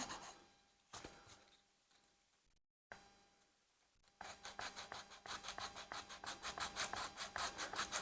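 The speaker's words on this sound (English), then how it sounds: "now you can take your sandpaper" Steady rhythmic rasping of sandpaper scrubbing across wood while shaping a traditional fan, close and fairly loud, following a few quieter scratches and a short pause.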